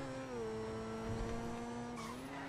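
A Grotti Turismo R sports car driven in GTA 5, its engine holding a steady, sustained drone throughout with a slight rise in pitch near the end, alone without talk.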